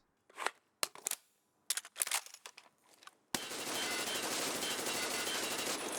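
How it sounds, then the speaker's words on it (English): Automatic fire from a G36 rifle in Escape from Tarkov: a few separate sharp shots and short bursts, then a loud, sustained rattling stream of gunfire that runs to the end. "This is like the shittiest G36 you can get."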